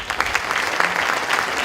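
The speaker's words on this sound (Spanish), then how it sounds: "Por aquí un fuerte aplauso." A brief burst of hearty applause from the audience at a clinical cardiac imaging course welcomes a speaker, with quick, close, crisp clapping throughout.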